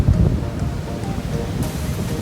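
Strong wind blows on a Boracay beach, a steady broadband rush over the faint wash of waves, close to the microphone and continuous.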